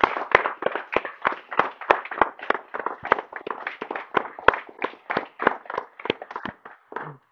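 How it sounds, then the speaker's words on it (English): A small gathering claps for the staff at a health center ribbon cutting, sharp irregular hand claps from a few people nearby, no talk over them. "But I want to pause and just give a round of applause for all of our staff here at"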